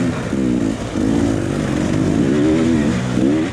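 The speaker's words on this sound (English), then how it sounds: "I'm not trying to lug the bike upshifting through sections. I'm just riding it in the power." A dirt bike in a hard enduro race revs hard in first gear. The engine wails up close and loud and holds a high, wavering pitch that dips briefly before climbing again.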